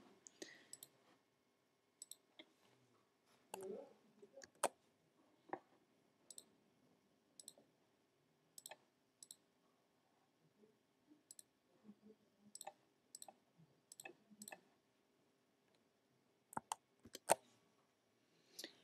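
Sharp, isolated computer mouse clicks, quiet and close, arriving singly and in quick pairs with silent gaps between them.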